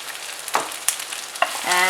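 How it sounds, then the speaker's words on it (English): Chicken roasting in ghee over a high flame with coriander leaves, a soft constant sizzle broken by a few sharp scrapes and stirs from a spatula in the pan, close by and without speech. "I'm going to keep roasting this for about 2 to 3 minutes in high heat"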